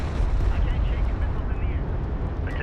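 Explosions and heavy gunfire in the strategy game Homeworld: Deserts of Kharak form a dense, continuous low rumble of blasts, loud and unbroken, with radio voices talking over the battle.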